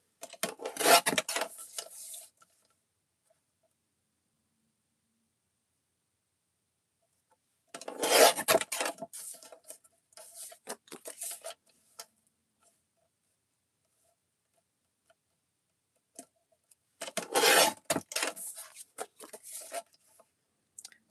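Three separate bursts of scraping and rasping as a sturdy paper Gelli print is trimmed down to size, each lasting a few seconds, with silence in between.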